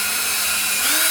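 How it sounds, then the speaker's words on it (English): A power drill whirs steadily at close range for about a second, pre-drilling a quarter-inch-deep hole, a continuous high-pitched motor whine with no voices. "put your drill bit in, line it up with the pre-marked hole that you made"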